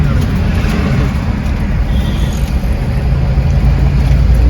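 A car drives along a road through the Sathyamangalam reserve forest toward Bannari, with a steady loud engine and tyre rumble and road noise throughout, close up and continuous.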